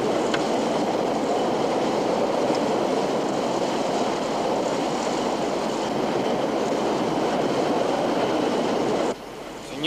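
A train runs along rails in a scene from a 1952 film, a loud, steady rumbling roll with faint clickety-clack throughout, cutting off abruptly near the end.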